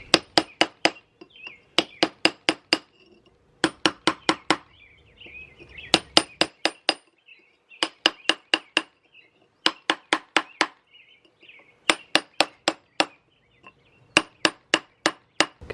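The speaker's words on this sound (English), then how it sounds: "with this harder type of mortar, a smaller hammer is much better" Small hammer chipping hard mortar off old bricks, sharp ringing metallic taps in quick bursts of four to six blows, repeated about nine times with brief pauses, close and loud with no talk.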